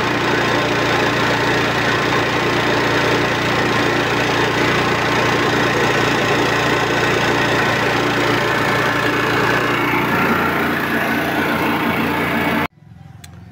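A Yamaha EF2600FW generator engine runs steadily at idle with a low, even hum and a constant mechanical drone, loud and close, until it cuts off abruptly near the end, leaving quiet.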